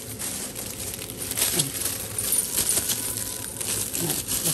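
A plastic bag being handled and crinkled in a kitchen while pigeons are prepared for an oven bag, steady close rustling and crackling that runs throughout, without speech.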